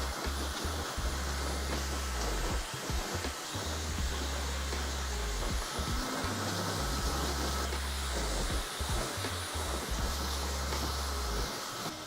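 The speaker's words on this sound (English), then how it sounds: "I need to blow dry it up and over and get a little volume going." A hair dryer blows steadily and loudly throughout while blow-drying a bixie haircut for volume, a continuous airy roar with shifting low-end rumble and no talking.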